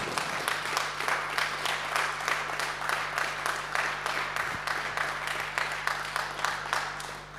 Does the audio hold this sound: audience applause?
yes